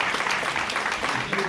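Audience applause at a union meeting of Amalgamated Transit Union Local 1056, a dense steady wash of clapping held at an even level throughout, with a voice faintly underneath.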